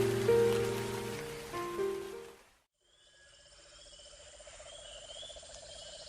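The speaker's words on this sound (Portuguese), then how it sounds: "uma chuva forte estava molhando" Heavy rain pours down steadily, loud at first with a tonal layer over it, then cuts to a brief silence before a much fainter, quieter stretch follows.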